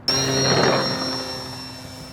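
An FT Legacy single-engine foam RC airplane flies past with a steady high electric motor whine and broadband prop wash that swells and then gradually fades.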